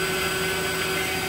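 A Fieldpiece VP85 8 CFM vacuum pump runs steadily during a freezer compressor replacement, giving a loud, constant whine and roar close up, alone.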